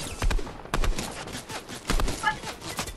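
Sniper rifle shots in the Fortnite video game come as several sharp, loud cracks spaced apart, with busy game noise and some talk mixed in.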